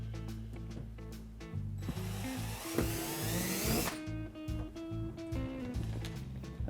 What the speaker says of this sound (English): we're going to go ahead and drill the second hole